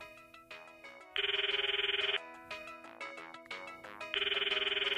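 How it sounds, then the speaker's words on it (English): A cell phone ringtone in the Steins;Gate visual novel: a bright melodic jingle alternating with bursts of buzzy, steady ringing, repeating in a loop, clear and close with no speech. "It sounds like Mayushi's cell phone. Her ringtone."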